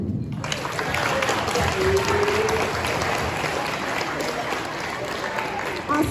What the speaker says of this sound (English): We'll clap for you when we're done.